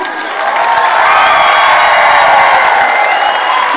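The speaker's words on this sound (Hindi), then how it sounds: "मैं चाहूंगी कि उसके फाउंडर के लिए एक बार जोरदार तालियां हो जाए" An audience gives loud applause for a company founder at a corporate event, dense clapping swelling quickly and holding steady with a few cheers mixed in.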